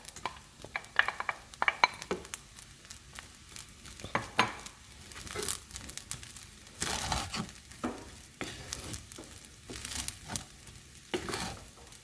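Beef being stirred back into fried rice in a pan, with a spatula scraping and tossing the rice in irregular bursts over a soft, steady sizzle.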